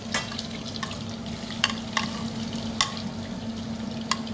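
Onion frying in a pan gives a low, steady sizzle, with occasional light scrapes and taps as it is stirred, faint and close with no voices.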